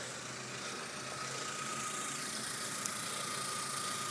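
A 1999 VW Passat 1.8T engine with new spark plugs idles smoothly, a steady even hum with a faint whine and no variation, heard alone for a few seconds.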